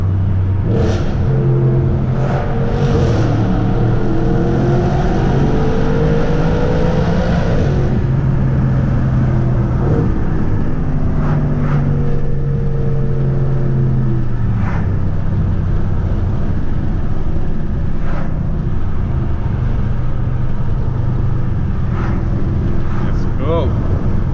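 An Audi RS5 with its resonator deleted revs and pulls through shifts, its loud engine drone rising and falling in pitch while driving, heard from inside the cabin with a person talking over it.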